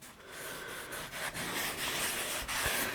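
An old stained dishcloth rubbing seasoning oil into cast iron, a close, continuous scrubbing swish in repeated strokes with short pauses between passes.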